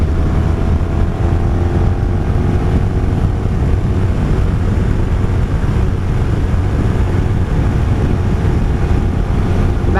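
A 1983 Honda Sabre V45 VF750S motorcycle being ridden: a loud, steady engine drone with heavy wind rush buffeting the microphone, constant and close for the whole stretch.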